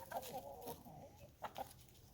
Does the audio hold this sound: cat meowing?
no